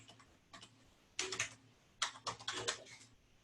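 Keys clack on a computer keyboard in quiet, uneven bursts of rapid typing, short flurries separated by brief pauses, close and soft with no talking.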